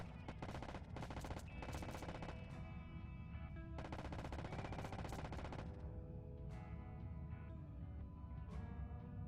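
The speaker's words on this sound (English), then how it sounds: "I'll switch to the minigun for like major." A minigun in the space game Wayward Terran Frontier fires in long, dense rapid bursts, loud and continuous, with brief gaps and ringing metallic tones between volleys.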